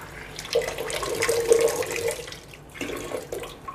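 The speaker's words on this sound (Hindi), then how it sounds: "इसको अच्छे से धो के पानी से" Tap water runs and splashes steadily while washer and CPU parts from an SD501 unit are rinsed clean, with a brief pause before the flow resumes near the end.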